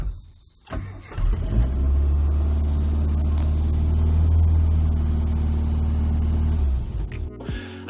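A classic Mini's engine starts and runs steadily, a loud, close mid-pitched hum with a constant drone that holds for several seconds before cutting off near the end.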